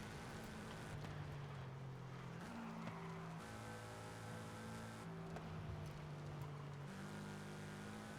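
A Toyota GT86 drifts along a winding road toward a hairpin in Forza Horizon 5, its engine droning in sustained tones that shift pitch as the revs change, with long stretches of tire squeal and skidding and no talk.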